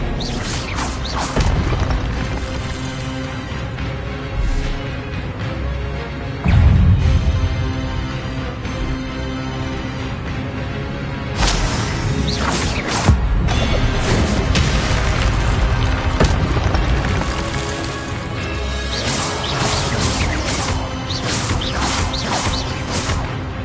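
Expelliarmus disarming-spell effects in the Hogwarts Legacy video game, a dense run of loud booms, crashes and whooshing blasts that follow one another almost without pause.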